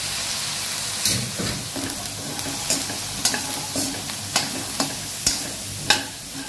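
Boiled chickpeas stir-fried in a pan with chilli powder, salt and tempering spices, a steady close sizzle broken by repeated scraping clinks of a spoon against the pan at a regular pace.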